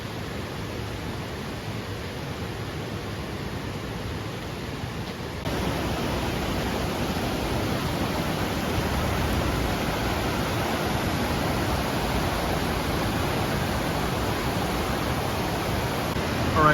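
A creek swollen by rain rushes in a steady broadband wash, loud and close, growing fuller after a few seconds and continuing unbroken with no voices.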